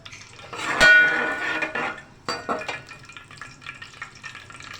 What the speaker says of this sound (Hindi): उसके बाद इसमें मैं छोटी इलायचियाँ तकरीबन 4 से 5 अदद ऐड करूँगी।